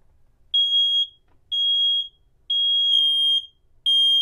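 A smoke alarm paired with a security system controller sounds a loud, piercing beep, repeated four times in an even rhythm of about half-second tones with short gaps.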